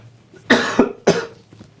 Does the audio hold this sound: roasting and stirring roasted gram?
no